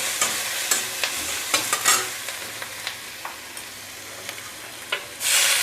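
Malabar spinach and small potatoes stir-fry in a wok with a steady sizzle and repeated sharp scraping stir clicks at uneven intervals, close and fairly loud, then a louder burst of frying at the end.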